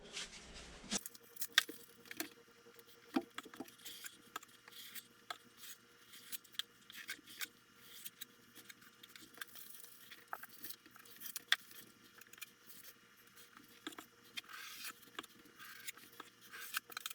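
Quiet scissors-like snipping and scraping while a drywall patch piece is cut for a large hole repair, close and soft, in irregular small bursts.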